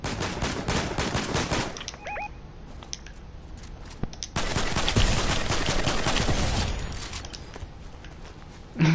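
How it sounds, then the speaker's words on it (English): Rapid bursts of gunfire from a Fortnite match, loud cracking volleys that come and go between quieter stretches, with a brief tonal chirp in the middle. "Shooting."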